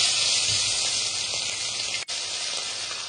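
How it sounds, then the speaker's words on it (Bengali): Pieces of hilsa fish sizzling in hot oil give a loud, steady, close-up hiss with a brief sharp click partway through. "এবার মাছের পিসগুলো তেলের ভেতর ছেড়ে দেব।"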